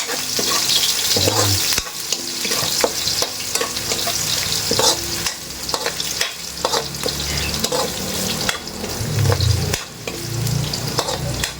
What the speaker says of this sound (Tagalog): Ipa-fry muna natin ng konti yung ating luya, no? Para lumasa at mawala yung lansa.